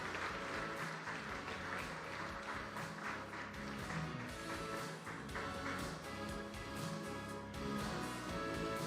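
An audience applauds at an awards ceremony in Mumbai, a dense, continuous wash of clapping from a large crowd that holds steady at moderate loudness throughout.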